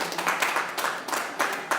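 Worshippers in a church clap together for the Lord, a short burst of close, rhythmic applause with claps falling in loose pulses.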